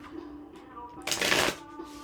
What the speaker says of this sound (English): Just feel like I want to give these cards like an extra shuffle